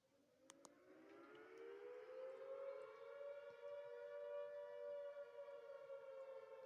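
A civil defense siren sound effect of the Siren Head kind, a loud wailing tone that rises steadily in pitch, then holds a sustained, slightly wavering howl with no other sounds.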